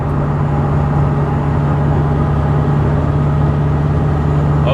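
A Toyota Supra's engine runs steadily under load in fourth gear, a loud, even drone with a strong low hum and no breaks, heard from inside the car.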